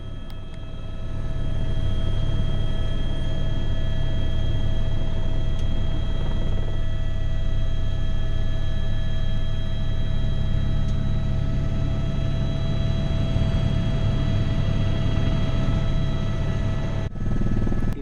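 A helicopter's engine and rotors make a loud, steady drone with a constant hum throughout a night flight in Nepal as it approaches the runway at Canidara. No one speaks.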